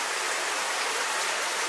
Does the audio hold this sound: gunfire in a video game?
no